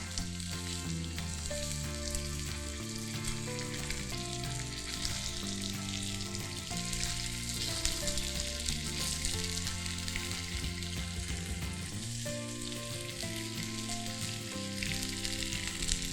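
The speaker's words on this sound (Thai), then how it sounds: "จีให้สุกทั้ง4 ด้านเลยนะคะ" Bacon-wrapped corn with cheese frying in a hot pan, a steady, loud sizzle that runs unbroken under a continuous music bed, with no one speaking.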